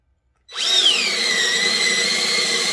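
A Ridgid brushed drill spins up abruptly and bores a 7/8 inch hole, a loud, close, steady whine with a brief pitch dip as it loads, running alone without talk.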